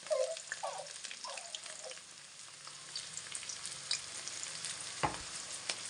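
Green chillies and onion dropped into very hot oil for egg curry, a lively crackling sizzle with intermittent stirring clatter and one sharp knock near the end.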